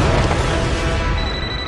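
Explosions rumble through an animated Megamind cutscene: a dense, loud, sustained roar of booming crashes spread across the whole band, with no clear pauses, reading like ongoing destruction rather than a single blast.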